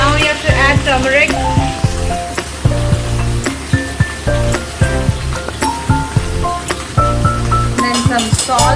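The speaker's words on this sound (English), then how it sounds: "Keep stirring it so that it's not stuck below." Crab curry with turmeric sizzles steadily in a frying pan while a spoon stirs it. Sharp clinks and scrapes come at intervals, and music plays underneath the whole time.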